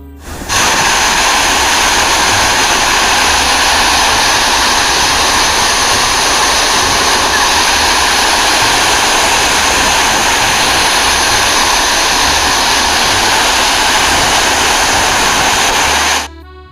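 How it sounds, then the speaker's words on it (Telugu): A waterfall in Kerala roars as a loud, steady, unbroken rush of water that fills the whole scene with no voices. "అలా వాటర్ ఫాల్ వినిపిస్తుంది మనకి"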